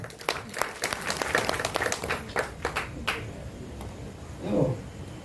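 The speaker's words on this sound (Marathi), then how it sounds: "प्रत्येकाने आपापल्यासाठी टाळ्या वाजवून घ्या" Bursts of clapping from an audience at a prize-giving ceremony for group bhajan and aradhi singing competitions, scattered and uneven with sharp individual claps, fairly distant, with a brief murmur of voices near the end.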